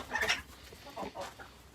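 Young roosters raised for meat, quarrelling in a farmyard, a few short clucks and squawks, faint and somewhat distant over background noise.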